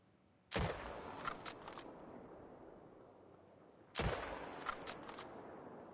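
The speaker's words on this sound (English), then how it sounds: "Put a couple of shots into him." Two sharp rifle shots from an alligator hunt in The Hunter: Call of the Wild, spaced about three and a half seconds apart, each a loud crack with a long rolling echo over quiet outdoor ambience.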